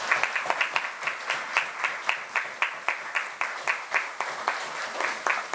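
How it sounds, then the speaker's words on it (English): Audience applause at a city council statutory meeting, honoring volunteer workers: a steady round of clapping from a moderately sized crowd with sharp repeated hand claps standing out, heard from mid-distance without talk. "let's give them a round of applause"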